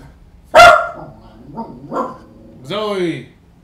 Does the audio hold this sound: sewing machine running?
no